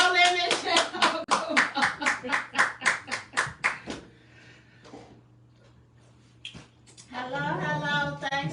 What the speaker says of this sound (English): Can you please give him a round of applause to you guys?